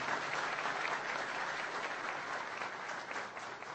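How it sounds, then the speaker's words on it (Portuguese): A room full of people at the FeniCafé 2012 coffee debate applauds two researchers steadily, dense clapping holding at an even level throughout, with no voices rising above it. "peço uma salva de palmas aos nossos dois pesquisadores"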